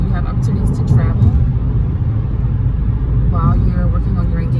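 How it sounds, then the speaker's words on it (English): City car traffic in St. Louis, Missouri, a steady low engine and road rumble with a bus-like drone, close and continuous, while a person talks over it. "here is the silence and car sounds that I promised"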